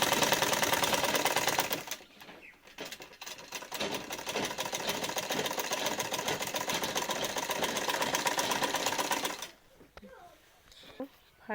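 A sewing machine runs a steady, fast stitching burst while sewing a pressed seam on a pajama cuff design, close and loud, then stops near the end with light handling noises.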